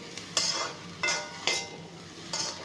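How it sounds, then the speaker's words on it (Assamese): Fish frying in a pan with garlic, chilli and turmeric powder, stirred in four short scraping, sizzling bursts with quiet gaps between, close by and without talk. "এয়া প্ৰথমতে অলপমান ভাজি ল'ম"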